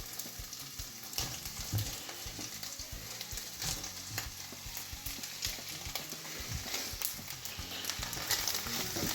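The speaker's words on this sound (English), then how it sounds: "Now that the meat's nice and crispy, we can add the onions in" Meat crisping in hot grease in a pan while Käsenudeln is being cooked gives a steady, dense sizzle and crackle, close and fairly loud, with occasional stirring scrapes and no talk.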